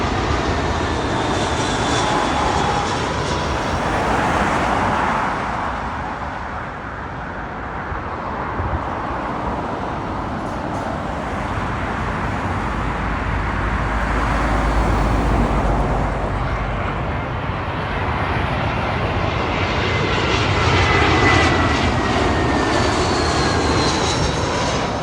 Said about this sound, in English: Little British Airways A319 coming in from the home of Airbus,